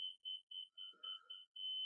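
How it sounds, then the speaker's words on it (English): A laser level gives a fast beeping signal, a run of seven or eight quick, even, high-pitched beeps close by, with a faint brief clatter midway. "It's a fast beeping."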